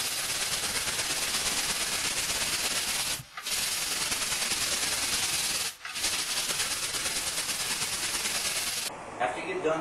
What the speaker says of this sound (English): After you get done doing a light sand with your 80 grit